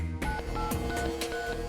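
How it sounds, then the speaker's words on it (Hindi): A telephone number being dialed: a quick series of about five or six touch-tone beeps in an even rhythm, close and clear, with no talk. "यही नंबर मिलाया था ना तूने?"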